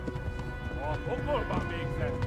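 A horse gallops in the video game Kingdom Come: Deliverance, with rhythmic clip-clop hoofbeats under a person talking.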